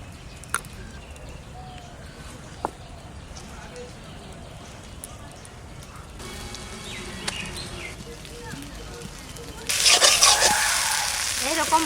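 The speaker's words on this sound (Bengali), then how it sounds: "বাটা হয়ে গেছে, কড়াইতে দিয়ে দেবো সবটা।" Ground paste of fried garlic goes into a hot wok: quiet scraping and stirring at first, then a loud, steady sizzle bursts up for the last couple of seconds, close by.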